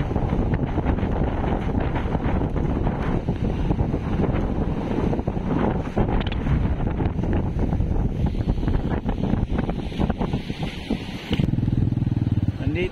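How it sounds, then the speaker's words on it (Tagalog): Strong super typhoon winds batter the microphone at a fishport in Dinahican, Infanta, Quezon, a constant loud roar with big waves crashing and surging beneath it, while a person speaks over the din. "Wala na pong katao-tao kasi malakas yung alon pati yung hangin."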